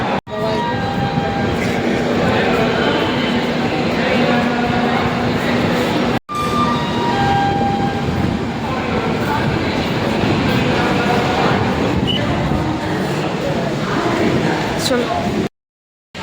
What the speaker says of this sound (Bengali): তো ট্রেন ছেড়ে দিয়েছে, আমরা এখন যাচ্ছি